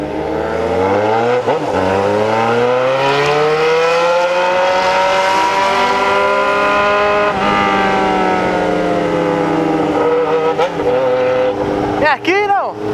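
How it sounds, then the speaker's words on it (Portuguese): A loud, noisy Yamaha XJ6 motorcycle with a straight-pipe exhaust roars continuously up close, its engine pitch climbing and then settling before a sharp rev near the end. "Esqueci que a moto é barulhenta demais!"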